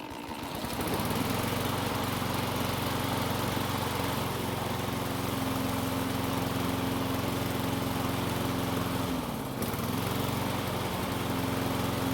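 A small Yardking lawn mower engine catches after a second and keeps running with a steady, buzzing drone, dipping briefly before settling back.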